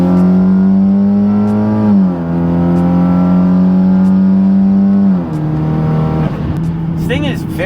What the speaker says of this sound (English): a big turbo 4-cylinder car